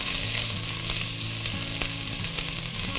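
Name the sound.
onions frying and being stirred in a pot for cauliflower soup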